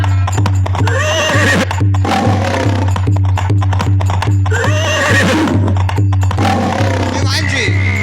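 Horses walking and neighing, with repeated loud whinnies over steady clip-clop hooves and a constant low hum, in a folk theatre performance.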